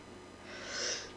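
A single short, quiet sneeze-like burst of breath that swells and fades within about a second, with nothing else around it.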